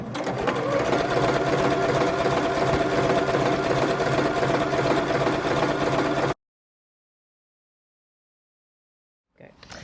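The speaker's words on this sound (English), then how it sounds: "Hold on to my threads at the beginning and start stitching." A sewing machine stitches fabric for bunting at a steady, loud, continuous whir for about six seconds, then stops dead into silence before a faint sound returns at the end.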